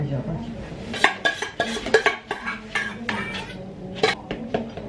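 A kitchen grater used on oranges is washed at a sink, giving quick clinks and clatters of metal against dishes amid running-water noise, with a voice talking faintly in the background.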